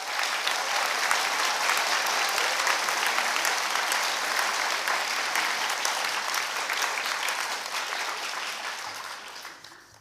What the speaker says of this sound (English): Could we please give your teachers a short round of applause?